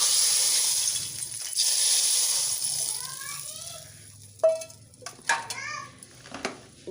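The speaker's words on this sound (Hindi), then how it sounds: "अब हम तड़का लगा लेंगे।" Garlic tempering for moong masoor dal sizzles loudly in hot oil, a bright crackling hiss that fades down as a voice begins talking over it.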